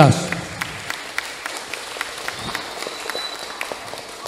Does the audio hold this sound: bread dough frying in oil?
no